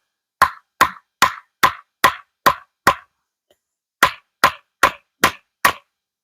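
Sharp, evenly spaced hammer blows drive a knife blade down through wood, seven in a row, a brief pause, then five more, loud and close.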